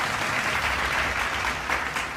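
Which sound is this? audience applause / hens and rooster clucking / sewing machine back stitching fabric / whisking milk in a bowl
audience applause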